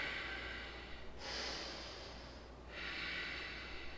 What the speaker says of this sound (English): Take a few nice breaths.